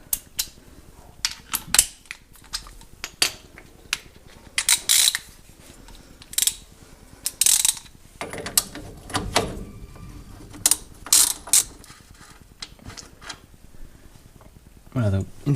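A 27 mm wrench working a pickup truck's wheel hub nut with irregular metallic ratcheting clicks and clanks, scattered in short bursts between quiet moments while someone talks.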